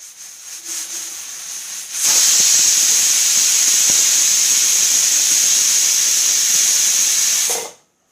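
A pressure cooker making vegetable pulao lets out a loud, sustained high-pitched whistle and hiss that lasts several seconds before abruptly stopping.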